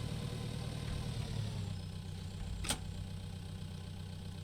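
A tractor engine in Pure Farming 2018 runs steadily with a low, even idle rumble throughout, and a single brief sharp click lands partway through.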